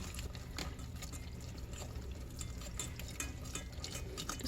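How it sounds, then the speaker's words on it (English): Milk poured slowly into a pot of thick, old-fashioned cooking grits makes a faint, continuous trickle against low background noise. "just pour the milk in slowly and stir as I go"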